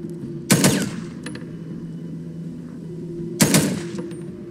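Two sharp gunshot bursts from the Days Gone video game ring out about three seconds apart, loud and close over a steady low ambient hum.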